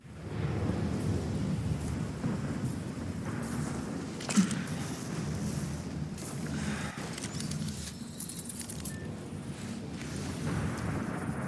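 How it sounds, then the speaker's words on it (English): A thunderstorm in the Outriders video game gives a continuous low rumble of thunder and wind, with one sharper crack partway through, steady and moderately loud without speech. "There's a big storm brewing."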